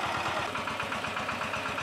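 A home-built, remote-controlled power tiller's engine runs in a steady, close chugging rhythm, its rapid even pulses loud and continuous with no voices over it.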